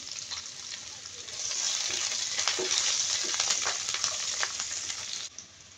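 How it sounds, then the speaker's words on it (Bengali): Whole spices and a small amount of chopped onion frying in oil for fish pilau, a steady close sizzle with faint crackles that swells slightly after the first second and cuts off near the end. "সেখানে দিলাম আস্তে গোটা মশলা, দিলাম কিছু পেঁয়াজ কুচি, অল্প করে দিলাম।"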